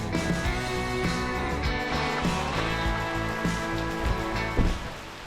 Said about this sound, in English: Nothing like walking in the rain.